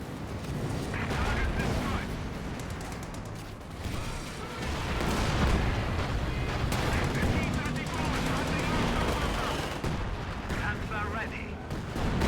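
Strategy war game battle with a howitzer artillery barrage, rocket fire and gunfire: continuous dense booms, blasts and rattling shots layered over each other for the whole stretch, loud and busy, with game voice chatter underneath.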